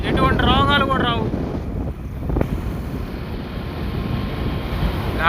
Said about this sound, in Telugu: గాలి బాగా వీస్తుంది